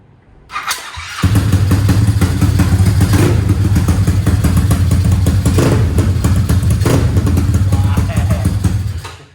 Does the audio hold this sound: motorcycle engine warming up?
yes